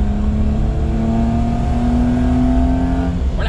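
A Daihatsu Midget 2, a small two-seater, engine revving loudly up close, its steady rising drone climbing gradually in pitch, then cutting off abruptly at the end.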